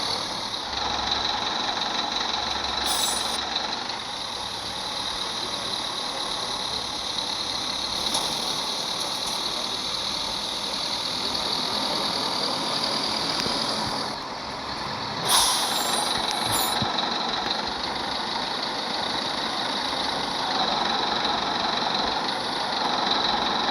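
A bus engine idles with a steady, droning hum, broken by several short sharp hisses like air-brake releases, close and without talk.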